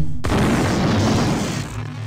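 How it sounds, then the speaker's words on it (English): Frag grenade blasts from System Shock 2: a loud, sudden boom at about a quarter second, followed by a dense rumbling roar that holds steady and tapers off near the end, with no talking. "Probably shouldn't be using frag grenades against these guys"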